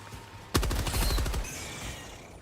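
A video game machine gun fires a loud rapid burst of about a second, close and rattling, then fades into a lingering echoing tail with lighter rumble.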